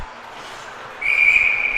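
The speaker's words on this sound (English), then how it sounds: "And the whistle there." Referee's whistle at a high school varsity ice hockey game, a single sharp sustained blast starting midway and held to the end, loud over low arena crowd noise.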